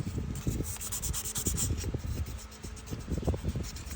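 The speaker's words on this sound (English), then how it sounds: "And remember, guys, when you're sanding," A Delrin part is sanded by hand in quick, even back-and-forth rubbing strokes, close and fairly quiet, with no talking.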